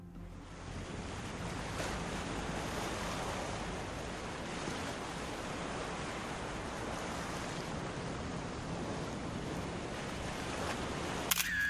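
Sea waves surge and wash steadily around a car driven into the sea, a constant broadband roar of surf with wind, heard alone at a moderate distance.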